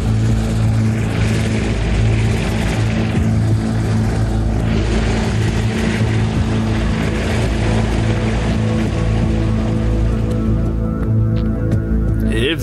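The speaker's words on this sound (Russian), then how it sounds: "И взлетаем" Propeller aircraft taking off with a family aboard for a skydive climb to 3,000 metres, a loud, steady engine drone with deep harmonic hum and wind rush filling the whole stretch, close and constant.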